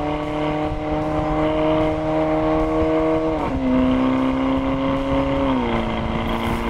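A 2015 Ferrari California T with big carbon ceramic brakes slows into a tight corner, its engine droning steadily and then dropping pitch in two stepped downshifts, heard loud from inside the car with no talking.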